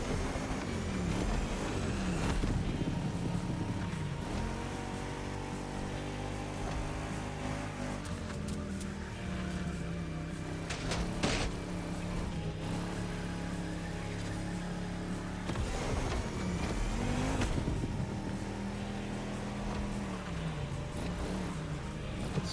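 An 80's classic car in The Crew Motorfest racing game holds a loud, sustained engine drone, rising and dipping in pitch through turns and acceleration across a lap, with no talk.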